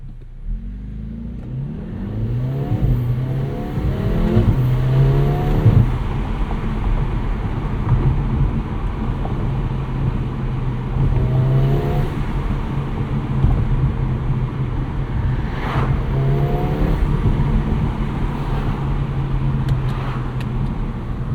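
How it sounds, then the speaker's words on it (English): A 2024 Mercedes CLA 35 AMG's exhaust burbles and rises in repeated revving pulls while driving with windows down, a deep rumbling engine note heard close with no talk. "Let's drop the windows so you guys can hear this exhaust note on the CLA."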